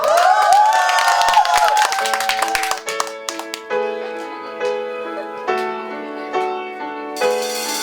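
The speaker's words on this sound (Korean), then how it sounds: "큰 박수 부탁드리겠습니다" An audience at a live band concert cheers and applauds loudly for about two seconds, then the band starts playing steady, sustained music that carries on alone.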